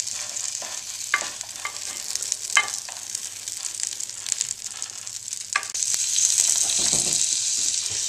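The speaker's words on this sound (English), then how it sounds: "Now you just want to let them fry so they go a bit soft, but not too hard" Food sizzles and fries in a pan until soft for a SeaNanner pudding, a steady close hiss with a few scraping stirs and clicks, growing louder near the end.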